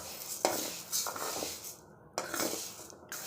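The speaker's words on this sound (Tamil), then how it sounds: "லோ ஃப்ளேமில் வச்சு நல்லா வறுத்துக்கலாம்." Horse gram dry roasting in a pan over a low flame, with soft scraping and stirring clinks of a spatula against the pan in a few bursts, close and fairly quiet, no talk.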